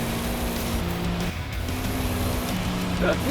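A Subaru STI races along a dusty dirt track in Forza Horizon 5, its engine droning steadily with shifting pitch and gravel rush, heard up close and loud throughout with someone talking over it.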